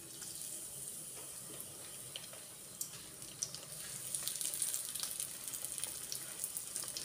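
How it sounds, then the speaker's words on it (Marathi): Beetroot, jaggery and peanut tikkis shallow frying in hot oil, a faint, even sizzle with small crackling pops that grows slightly busier toward the end. "त्याच्यामध्ये मी त्या टिक्की असं ठेवून देते. छान असं शॅलो फ्राय करून घ्यायचं."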